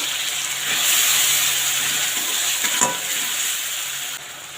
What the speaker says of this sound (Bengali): এবার দিয়ে দেবো আদা পেঁয়াজ রসুন পেস্ট।